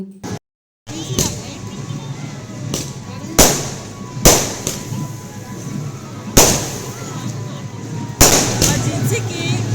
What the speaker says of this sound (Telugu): ఇప్పుడైతే క్రాకర్స్ కాలుస్తారు ఎలా కాలుస్తారు ఏంటి అనేది ఒకసారి మీరు కూడా చూసేయండి